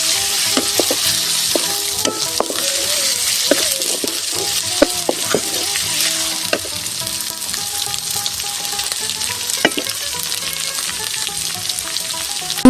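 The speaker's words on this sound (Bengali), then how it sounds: "সবটাই একসাথে দিয়ে দিলাম দিয়ে ভালো করে ভেজে নেবো" Onion fries in a pan with ground garlic and ginger, a loud, continuous close sizzle with scraping stirs and occasional clinks of a utensil against the pan, with no voices.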